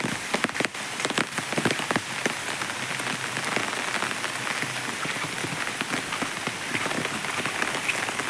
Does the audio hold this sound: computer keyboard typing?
no